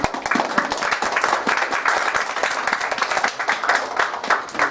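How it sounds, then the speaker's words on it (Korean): Welcoming applause from the audience at a Christian conference, a steady crowd of hands clapping throughout, fairly loud and continuous with no talk over it. "자, 우리 환영하는 박수."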